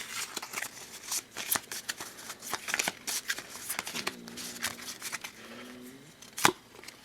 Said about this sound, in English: And we will give the scavenged deck a shuffle.